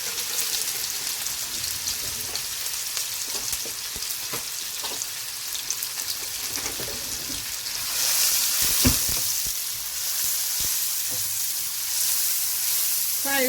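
Chopped onion frying in hot oil in a pot for Nigerian meat pie filling, a continuous hissing sizzle with a few stirring knocks, swelling louder partway through.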